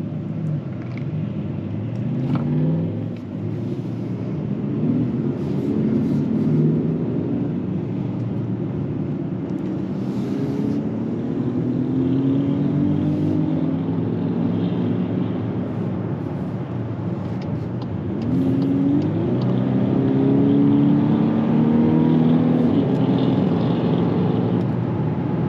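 Low, steady road rumble and engine drone from inside a moving 2024 VW Atlas SUV, continuous and fairly quiet, with faint shifts in pitch as it drives.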